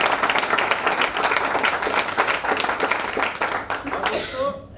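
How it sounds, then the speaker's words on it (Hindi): Audience applause fills a company celebration for top leaders in Moradabad, a dense, steady wash of many clapping hands that carries on throughout and thins toward the end, with voices mixed in. "यहाँ पे बैठे हमारे टॉप लीडर के मेंबर एक बार वो लोग उनके लिए जोरदार तालियां बजाएं"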